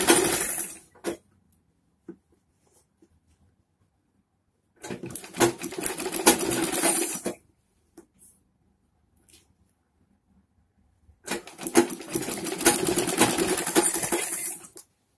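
A sewing machine stitches the seams of a samosa-cut chudidar pajama in two long, rapid whirring runs of a few seconds each, separated by quiet pauses and a couple of faint clicks.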